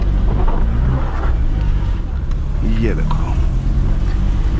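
A Maruti Alto's engine labours climbing a steep, tight road in Shimla, a steady low drone with road rumble, under a brief spoken remark from inside the car.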